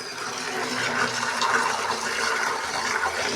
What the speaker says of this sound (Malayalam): ഡ്രമ്മക്ക് വെള്ളം ഒഴിച്ചേട്ടോ